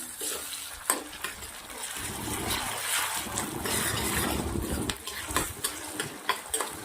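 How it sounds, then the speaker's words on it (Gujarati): Mixed vegetables sautéing in a pan with onion, ginger-garlic paste and green chillies: a soft, continuous sizzle broken by sharp spoon-against-pan scrapes and clacks as the mixture is stirred, close and moderately quiet. "બધા જ વેજીટેબલ સરસ તતડાઈ ગયા છે"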